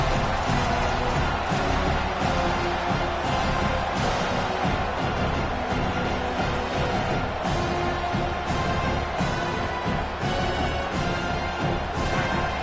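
A stadium crowd at a college football game roars loudly and continuously during a third-down defensive stand, a dense, unbroken wall of cheering noise.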